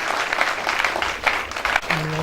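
An audience bursts into sustained clapping at a gathering, with dense, uneven applause throughout and a brief voice near the end.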